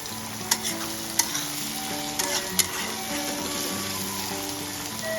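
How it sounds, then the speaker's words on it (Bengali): Onions frying in a little oil for a vegetable curry, a close, continuous sizzle with occasional sharp spatter pops and stirring, steady and loud, with no voices. "এভাবে পেঁয়াজগুলো ভেজে নেব খুব সুন্দর করে ভেজে নেব আমরা"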